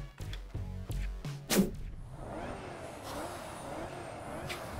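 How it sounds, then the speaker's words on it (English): Supercharged Range Rover Sport SVR in the racing game Test Drive Unlimited Solar Crown, heading into an off-road race: a few hissing and clunking bursts, then a steady engine drone under a thin, rising high-pitched supercharger whine. "Listen to the supercharger on this even."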